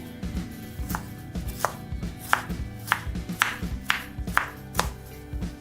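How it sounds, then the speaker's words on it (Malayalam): Banana stem is chopped into small pieces with a knife on a board, a steady run of about a dozen crisp, evenly spaced chops, close and clear, with no talk. "ഇനി നമുക്കത് ചെറിയ പീസസ് ആയിട്ട് കട്ട് ചെയ്യാം"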